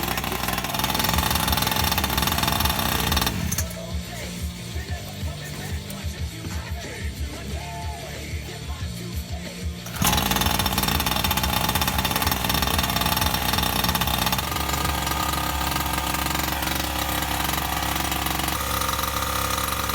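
A small gas engine powers a Primal MT Raminator 1/5 scale RC truck, running loud and close with a steady, buzzing rasp; the tone shifts partway through as the revs change, and nobody speaks.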